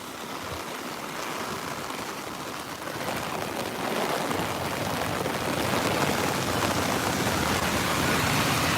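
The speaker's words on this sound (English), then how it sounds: "it's raining so damn hard right now" Heavy rain from tropical storm Fay pours down in New York City, a dense, steady hiss that grows louder and fuller as the downpour intensifies, with no voices over it.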